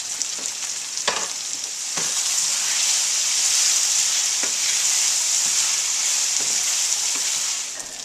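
Tomatoes and onions for ratatouille hit a hot pan, sizzling loudly and steadily with a dense frying hiss and a few sharp pops and crackles.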